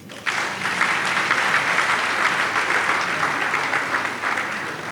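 Sustained audience applause during a televised political speech, a dense, steady wash of many hands clapping that starts abruptly and holds loud and close for several seconds.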